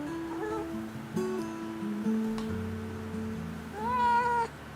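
A cat meows several times in a row, drawn-out tonal calls with rising and falling pitch, close and clear.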